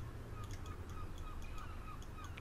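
Seagulls cry in the Bremen Nord area of the bus simulator game OMSI 2, a series of faint, repeated calls over a steady low background hum, with no talking.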